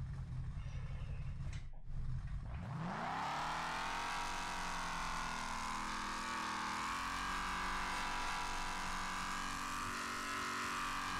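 A race car engine in the driving game Overpass whines upward steadily as it accelerates, its rising pitch climbing then holding at a strained, continuous drone, loud and alone without any talk.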